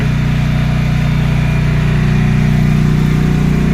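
A Westinghouse 14,500 watt tri-fuel generator fitted with an extended muffler runs steadily nearby, a loud, even mid-pitched engine hum with no pauses and no voices.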